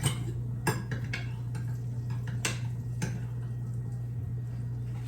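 Whisk scrapes and taps against a pan while stirring gravy for liver, a light irregular clicking over a steady low hum from the stove area.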